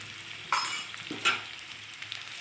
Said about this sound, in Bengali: আমি এটাকে একটুখানি কষিয়ে নেব, ভেজে নেব